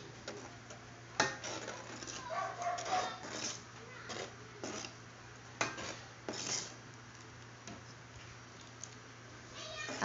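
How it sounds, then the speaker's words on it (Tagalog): Ginataang mais, sweet corn in coconut milk with pandan, being stirred in a pot, giving soft, irregular spoon scrapes and light clinks against the metal, close and quiet, over a low steady hum. "Halu-haluin lang natin para hindi siya magdikit-dikit."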